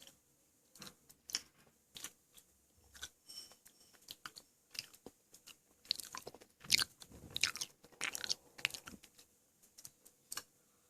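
Close, quiet chewing of sour jelly candy, with soft irregular squishy and sticky mouth sounds and small clicks, intensifying in the middle, with no talking.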